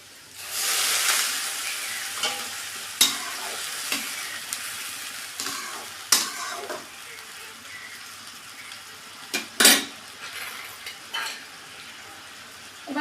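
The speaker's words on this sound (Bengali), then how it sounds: "এবার আমি দিয়ে দেবো সামান্য পরিমাণে জল।" Water hits frying papaya in a pan, bursting into a loud hiss that settles into a steady sizzle, with a utensil scraping and stirring and voices talking now and then.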